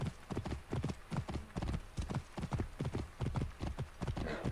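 Galloping horse hooves in a video game: a steady, rapid clip-clop rhythm sustained for several seconds, close and prominent, with a faint breathy snort near the end.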